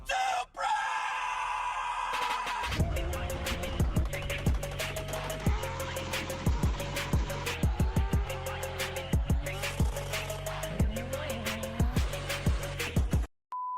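A Toyota Supra's engine in a racing video game, played with a knockoff PS4 gamepad, revs up and shifts again and again in a steady rising-and-dropping pattern, loud and continuous with no talking.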